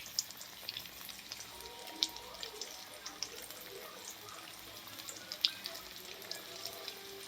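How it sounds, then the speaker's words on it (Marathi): Lativ vadi, a traditional spiced Marathi snack, deep-fry in hot oil, giving a faint, steady bubbling hiss with scattered small crackles and pops. "अशा पद्धतीने सगळ्या वड्या आपल्याला तळून घ्यायच्या आहेत."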